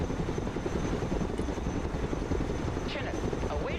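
A heavy Chinook transport helicopter in a video game hovers low while lifting cargo on hooks, its rotor a steady dense rumble throughout with no break.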